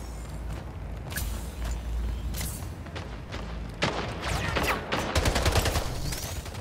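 Gunfire in the Splitgate video game: repeated bursts of rapid shots and sharp impacts, fairly loud and dense, which intensify toward the end.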